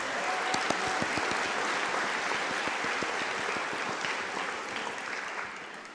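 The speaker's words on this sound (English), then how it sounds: "Let's give our graduates another big round of applause" Continuous applause from an audience at a polytechnic graduation ceremony for the graduates, many hands clapping at a steady level that tapers slightly toward the end.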